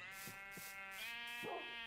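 A sheep in the Minecraft video game bleats a few times, faint, short, wavering cries heard alone.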